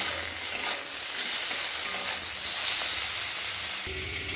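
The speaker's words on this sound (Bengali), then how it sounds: "টমেটোটা দিয়ে ভালো করে এর সঙ্গে নাড়াচাড়া করে নেব" Tomato being stirred into vegetables frying in a pan, a steady close sizzle and hiss with scraping stir movements running throughout, no voices.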